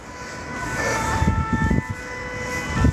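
A fire engine siren wails steadily at a distance, a sustained tonal whine held over low rumbling street traffic, with no talking over it.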